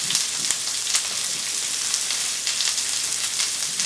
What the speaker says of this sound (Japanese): お魚だけをちょっと揚げるんで